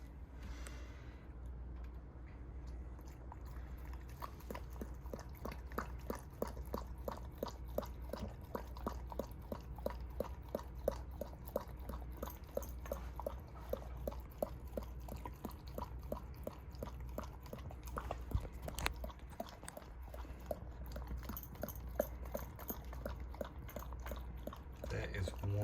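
A puppy chews and gnaws steadily at a treat inside a ball, with repeated clicking bites and a low steady hum underneath, fairly close and continuous throughout.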